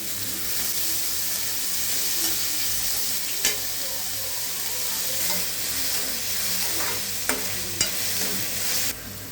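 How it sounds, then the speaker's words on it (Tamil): Onions and fennel seeds sauté in a pan with a loud, even hiss of frying, and a spatula makes occasional light scrapes and taps against the pan. "வெங்காயம் வந்து நல்லா வதங்கணும்"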